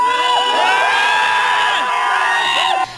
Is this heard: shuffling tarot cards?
no